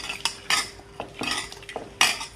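A spoon scrapes and clatters in a pan as spices with coriander powder fry for a restaurant-style tomato rasam, giving several sharp, irregular stirring strokes over a faint sizzle, close and alone with no talk.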